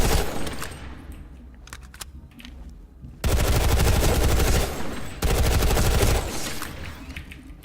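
A TR assault rifle in a video game fires full auto, first scattered shots and then two long, loud sustained bursts, each lasting about two seconds, with a short pause between them.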